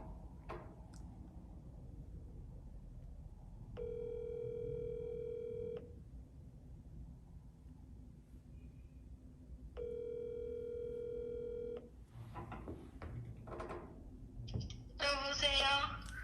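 A telephone ringback tone sounds twice as two long, steady tones about six seconds apart while a call is being placed, with quiet room noise and murmured talk around them.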